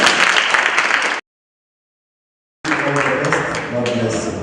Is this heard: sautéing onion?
no